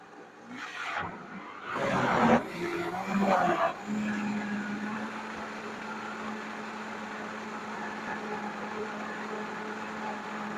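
A blender pulses hot roasted carrot soup with its lid held down, giving a few short whirring bursts before settling into a low, steady hum.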